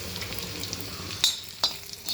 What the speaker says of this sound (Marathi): यामध्ये मोहरी आणि हे जिरे आणि हे लसूण घालत आहे.